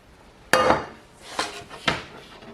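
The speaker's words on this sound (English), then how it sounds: "And then scrape your onions in there." Chopped onions scraped off a board into a frying pan coated with a little olive oil, giving three distinct clattering knocks of utensil on metal spaced about a second apart, with no talk.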